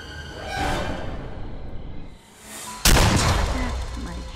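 A single sharp gunshot from the Friday the 13th video game cracks loudly partway through, following a muffled, noisy game scene and trailing off into a short rumbling decay.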